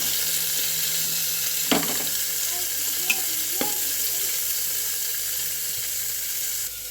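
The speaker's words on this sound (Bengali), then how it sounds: "মাংসগুলোকে দিয়ে দিয়েছি ভাজা হওয়ার জন্য" Meat fries in hot oil with chopped ginger and garlic, a steady close sizzle with a few sharp clinks and scrapes of a utensil against the pan.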